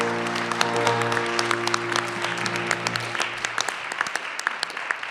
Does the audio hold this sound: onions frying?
no